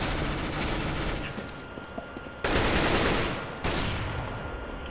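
Rapid gunfire from a Counter-Strike: Global Offensive match sounds as dense bursts of shots, with sharp breaks where the firing cuts off and then resumes. The bursts are moderately loud.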